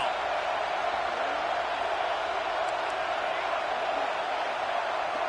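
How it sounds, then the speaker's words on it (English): A steady, distant roar from an American football stadium crowd cheering on the defense on third down, broad and continuous with no distinct peaks, a commentator's voice faintly present. "Decibels rising as the crowd gets behind this defense on third down."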